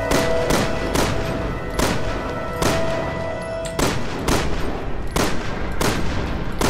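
Gunfire in the video game Resident Evil 6: a steady series of loud, sharp shots at roughly even intervals, each with a booming tail, with no talk over them.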